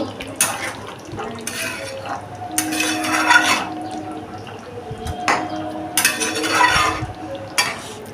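A spoon stirs ghee through a potato dum curry in a metal pot, several bursts of scraping and clanking against the pot separated by quieter gaps, close and fairly loud.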